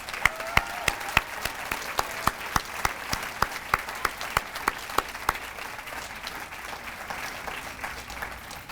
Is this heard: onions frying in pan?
no